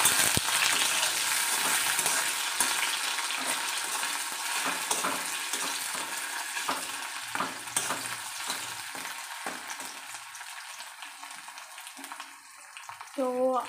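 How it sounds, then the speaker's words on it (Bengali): Potatoes for chowmein fry in a pan with a dense, bright sizzle that gradually eases, broken by scattered stirring knocks and a brief sharper sound near the end. "তো এরপরেই আমি আলুগুলো দিয়ে দিচ্ছি এর মধ্যে।"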